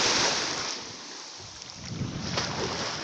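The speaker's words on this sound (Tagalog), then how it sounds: "Maganda siya pero malakas po ang alon mga kapamilya." Strong sea waves near the shore at Pandan, Antique, a broad steady roar of surf with heavy wind buffeting the microphone, no talk.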